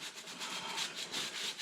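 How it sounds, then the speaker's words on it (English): Someone scrubs rust off a chain during chain maintenance, a soft rhythmic rasping rub in repeated strokes, close and quiet with no talk. "I'm gonna have to get some of this rust off"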